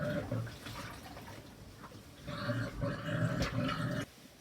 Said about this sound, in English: I'll let the water drain away.